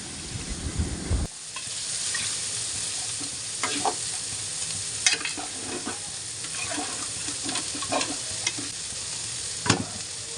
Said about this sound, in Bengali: এখন আরেকটু সুন্দর করে ভাজবো